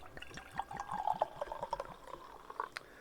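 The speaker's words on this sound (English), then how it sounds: "So let's see how it does. Pour it out." Perry, a blend of Ross-on-Wye Yellow Huffcap and Blakeney Red, pours into a glass with a close, steady glugging trickle and gentle splashing, bubbly and continuous for a few seconds, with no talking.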